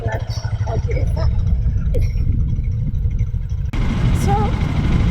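A motorcycle engine runs in first gear with the clutch held during a beginner riding lesson, a loud close low rumble throughout, with speech-like sounds over it and a rise in noise near the end.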